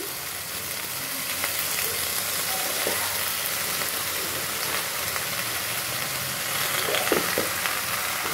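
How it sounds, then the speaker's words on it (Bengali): Malabar spinach with potato and a hilsa fish head is sautéed and gently turned in a hot pan. A steady, loud sizzle runs throughout, with occasional faint stirring scrapes and no talking. "আমি শাকটা উল্টিয়ে নিলাম খুব সাবধানের সাথে"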